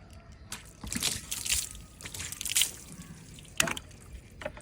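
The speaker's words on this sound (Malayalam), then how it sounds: "നമ്മൾ ഇതിലേക്ക് വെള്ളം ഒഴിക്കാൻ പോകും" Water splashes and trickles in uneven bursts, a close pouring and dribbling sound with a few sharper drips.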